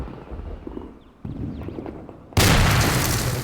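A mortar in the game Arma 2 fires a white phosphorus round, a sudden loud blast with a sustained roar near the end, preceded by softer rumbling and a duller thump.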